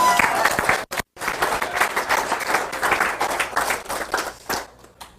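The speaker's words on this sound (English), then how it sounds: "can I get a big round of applause?" An audience at an internet marketing presentation breaks into lively clapping after a short pause, a dense close burst of applause that carries on for several seconds before thinning out.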